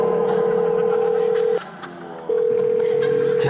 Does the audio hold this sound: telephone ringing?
yes